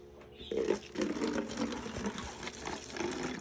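Vinegar poured into a second bottle during a baking soda volcano experiment, a steady gurgling liquid stream with uneven splashy pulses, close and moderately loud.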